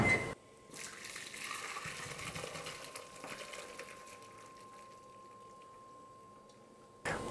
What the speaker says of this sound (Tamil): இப்போது குக் பண்ணி எடுத்து வச்சுருக்கிற பாஸ்தாவை இந்த மாதிரி ஒரு வடிகரண்டியில் வடிகட்டி எடுத்துடலாம்.